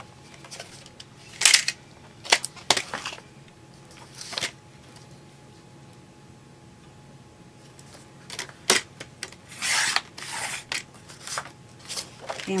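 White cardstock cut from an 8.5 by 11 sheet is trimmed on a paper trimmer, giving short sharp slicing and scraping bursts around 1.5, 2.5 and 4.5 seconds and a busier run of cuts and handling noise from 8.5 to 12 seconds, separated by quiet pauses.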